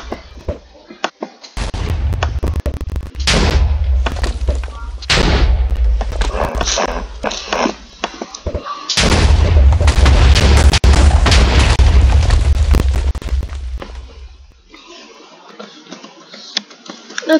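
Fireball explosions in Minecraft give deep booming blasts with rumbling low-end tails, several loud bursts in a row separated by short gaps, ending in quieter crackling debris.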